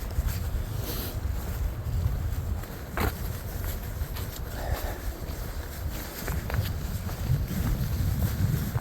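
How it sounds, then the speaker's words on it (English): Wind gusts roar and buffet the microphone on a wet winter mountain section of the Appalachian Trail, a constant heavy rushing with rain mixed in and scattered brief knocks, no talking. "despite the wind and the rain, still able to get some pretty decent views"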